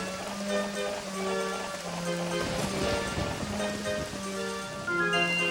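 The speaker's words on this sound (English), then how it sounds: "Song of Storms, to make it rain inside." In-game rain summoned by the Song of Storms in The Legend of Zelda: Ocarina of Time, a steady hiss of falling rain under a sustained tonal music bed, swelling briefly midway.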